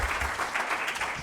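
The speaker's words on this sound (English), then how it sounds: "first off, rounds of applause for our first responders and OES" A crowd at a fire prevention townhall gives a round of applause for first responders, steady close clapping with no break for just over a second.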